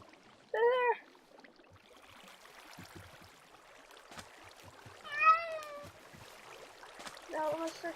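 A cat meows in a modded survival video game, three short separate mews spaced across a quiet background with faint scattered clicks.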